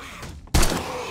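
A sudden loud gunshot blast in the video game 7 Days to Die that rings out, with another shot starting right at the end, sharp and close.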